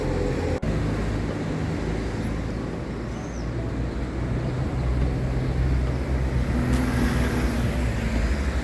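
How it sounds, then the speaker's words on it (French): Steady road traffic noise in Ponferrada, a continuous broad rumble of passing vehicles at moderate distance, fairly loud and unbroken, with a brief faint chirp above it. "Il y a de la circulation aussi,"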